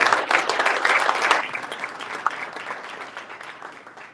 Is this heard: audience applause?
yes